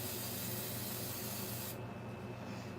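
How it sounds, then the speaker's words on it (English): A can of Suave Max Hold hairspray sprays in one steady, close, continuous hiss that cuts off abruptly near the end. "I'm gonna grab my Suave Max Hold and I'm gonna spray it off to the side off camera here"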